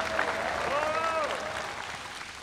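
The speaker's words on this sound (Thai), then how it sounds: "ขอเสียงปรบมือดังๆ1ครั้งเลยครับ" Loud applause from the audience at a Thai Fight League Muay Thai event: dense clapping that swells and then slowly fades, with a voice and a brief tonal sound over it.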